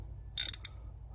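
A ratchet with a 3/8 Allen head bit on a brake caliper bolt of a 93-02 F-Body gives a short burst of sharp clicks, then one more click, close and loud against quiet.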